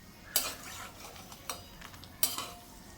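Curd-stuffed green chillies, sandage mirchi, handled in a pan of hot oil: a few sharp metallic clinks and stirring scrapes over a faint low sizzle, quiet and close.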